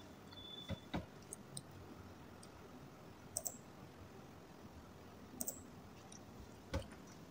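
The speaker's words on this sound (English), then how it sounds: "click on this for it to be connected" A handful of sharp, faint computer mouse clicks, single and in quick pairs, spaced a few seconds apart over a quiet room background.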